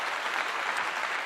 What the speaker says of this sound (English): I'll give you a clap on that